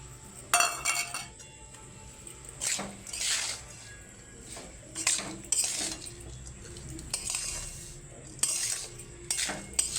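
Rice mixed with cashew powder is stirred in a pan, giving repeated scraping and clinking utensil strokes against the metal, coming in irregular bursts with quiet gaps between them.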